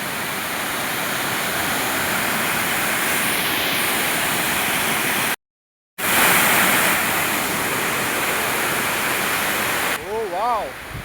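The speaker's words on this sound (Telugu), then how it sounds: "most visit beautiful water falls" Kothapalli waterfall near Paderu roaring as a loud, continuous broadband rush, briefly cut out for a moment midway, with a voice rising over the water at the very end.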